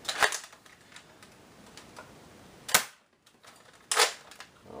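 Buzz Bee Covert Squad toy blaster firing foam darts through a chronograph, giving a few sharp, close snapping shots with quiet handling clicks between them.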